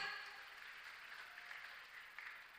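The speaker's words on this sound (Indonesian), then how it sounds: "Oke, beri tepuk tangan yang meriah." Steady, fairly faint applause fills the hall at a university public lecture and anti-drug campus launch at Universitas Sriwijaya, continuing evenly without pause.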